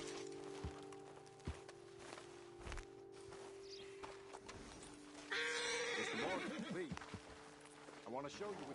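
Horses neigh and whinny close by in the video game Red Dead Redemption 2, with hooves thudding occasionally and a voice speaking faintly in the background.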